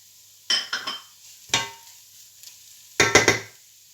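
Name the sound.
garlic and ginger sizzling with onions in a pan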